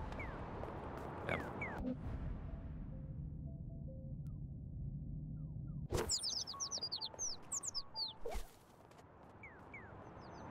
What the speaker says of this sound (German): Vögelchen, du bist ganz schön laut.